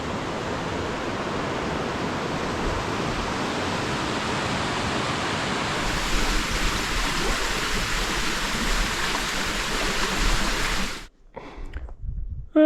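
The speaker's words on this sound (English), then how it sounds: "It's a beautiful river." A river flows steadily in a broad, constant rush of water, close and loud, continuing alone without speech before cutting off abruptly near the end, followed by faint handling noise.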